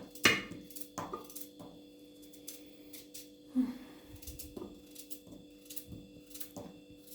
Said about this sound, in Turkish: Şimdi bunu da böyle doğruyoruz dostlar.